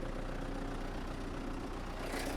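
MTZ 892 tractor engine running steadily while plowing a field, a dense continuous low rumble and knock heard from inside the cab, with no talking.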